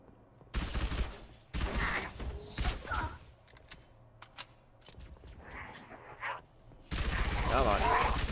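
Halo 3 ODST submachine gun fire in the Data Hive level on Xbox 360: sustained bursts of rapid shots starting and stopping, loud and near, with a long final burst and a voice talking in the gaps.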